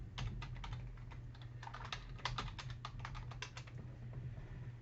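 Rapid typing on a computer keyboard to log in, with quick irregular key clicks in a steady patter over a low constant hum, close and quiet with no talk.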